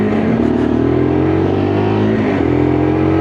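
A Lexmoto LXR E55 125cc motorcycle engine drones loud and close, its pitch climbing steadily under acceleration, then dropping briefly at a gear change before rising again.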